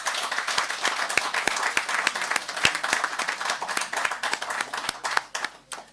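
Municipal council members in a council meeting chamber applaud with crisp, close hand claps that form a steady rhythmic patter, loud and sustained before tapering off at the end.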